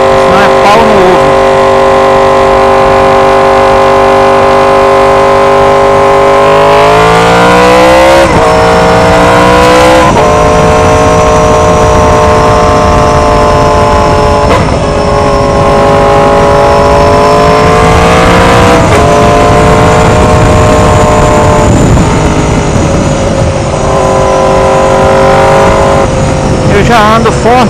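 A loud Yamaha R1 2016 motorcycle engine with quickshifter revs and shifts through gears as it rides steadily, its pitch climbing and dropping repeatedly, with faint talk beneath.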